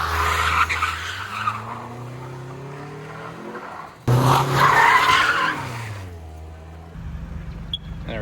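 A Nissan Altima's tires squeal hard and continuously as the car strains to push a dumpster, the engine droning and revving under the skid, with a loud surge of screeching midway before it eases off.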